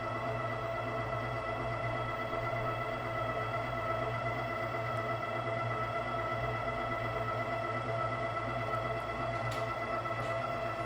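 An Ooni Halo Core spiral dough mixer runs steadily and continuously, giving a dense, even motor hum with a layered tonal drone and no pauses or speech, heard close and constant throughout.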